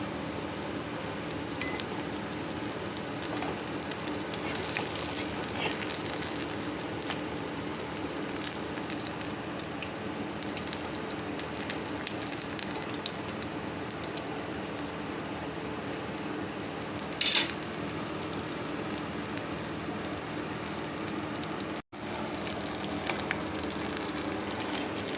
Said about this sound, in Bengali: চেপে চেপে একটু ভেজে নিতে হবে।